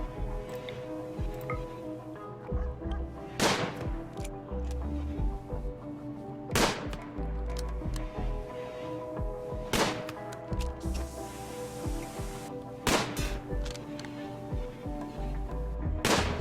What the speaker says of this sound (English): Two guys shooting, nobody's hitting anything.